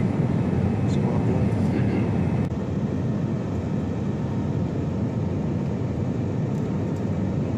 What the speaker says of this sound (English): We're landing at Suvarnabhumi, by the way,